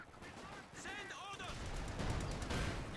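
Gunfire and cannon shots in a strategy video game battle, a busy scatter of reports mixed with battlefield noise and a brief voice clip, at moderate level.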